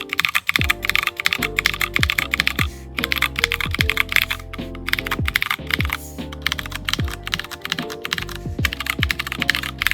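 Rapid, steady typing on a mechanical keyboard fitted with Glarses MX Purple switches, dense keystrokes running the whole time alongside musical tones, with no speech.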